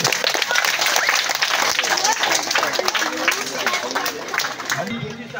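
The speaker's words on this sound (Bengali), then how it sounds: "একটু হাততালি।" Audience applause at a teacher's retirement ceremony: steady, dense clapping from a crowd that holds loud for about five seconds, then thins as a voice begins speaking at the end.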